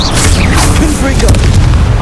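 A fiery Confringo spell blast from the video game Hogwarts Legacy booms loud and close, its heavy roar rumbling on without a break under cracks and bursts of combat noise.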